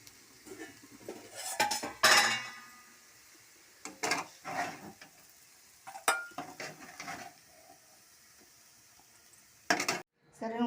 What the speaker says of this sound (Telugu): ఇప్పుడు సర్వింగ్ బౌల్లో తీసుకోవాలి.